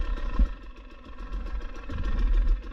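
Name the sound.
GasGas EC 300 2022 enduro motorcycle engine idling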